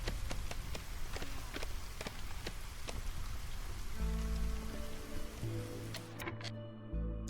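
Soft, steady rain patters during drizzle season in the video game Against the Storm, a quiet continuous hiss with scattered drops, joined near the end by low tonal game sounds.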